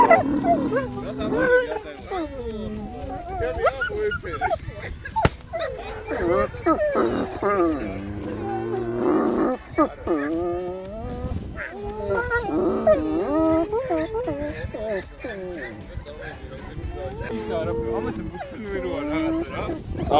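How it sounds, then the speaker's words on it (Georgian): A wolf howls and whines in long, wavering, high calls that rise and fall over several seconds, with people talking nearby. "Это волк."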